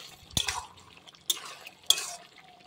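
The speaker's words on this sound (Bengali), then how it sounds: "এখন নাড়বো" A spoon scraping and knocking through desi chicken curry in a pot, three distinct stirring strokes with brief metallic clinks and soft wet movement between them, close and fairly quiet.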